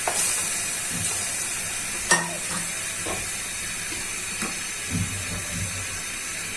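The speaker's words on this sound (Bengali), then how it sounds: "বোনেরা, কড়াইটা গরম হয়ে গেছে, এখন রসুন দিয়ে দিচ্ছি।" Garlic sizzles in a hot wok, a close, steady hiss with a few clattering stirs and knocks of a spoon against the pan.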